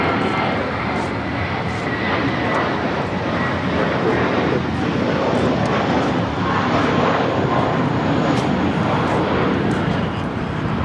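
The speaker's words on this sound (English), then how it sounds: "This is American Airlines 3217 taking off to San Francisco on the A321." An American Airlines Airbus A321 takes off at LAX, its engines producing a loud, steady broadband roar that holds for the full duration with no clear pauses.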